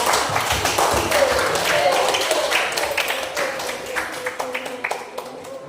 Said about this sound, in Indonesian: kasih tepuk tangan dulu untuk kelompok remaja